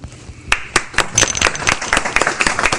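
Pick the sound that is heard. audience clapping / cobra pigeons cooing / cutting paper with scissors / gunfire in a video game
audience clapping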